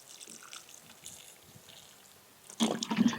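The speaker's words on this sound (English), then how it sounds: "Just water them in, let it soak in real good." Water is poured onto seed-starting trays and small flats of soil, with a brief, splashy gush at the end after a quiet, faintly trickling stretch.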